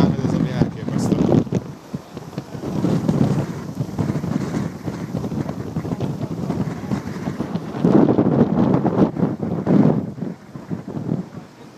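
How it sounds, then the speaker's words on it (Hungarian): Strong ocean wind buffeting the microphone on a fishing pier at Juno, producing loud continuous low rumbling gusts that swell and ease over several seconds, with surf roar underneath. "Nagyon fúj a szél"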